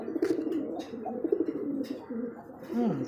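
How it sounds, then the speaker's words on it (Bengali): A male pigeon coos close by in a series of soft, throaty rolling calls, with a brief falling coo at the end and a few faint chirps from other birds around it. "সেই একটা ডাক দেখেন এটা হচ্ছে নর কবুতর"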